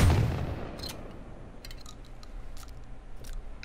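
A Deep Dive double-barrel shotgun in a video game booms once loudly at the start, followed by a quieter series of clicks and metallic clacks as the gun is reloaded.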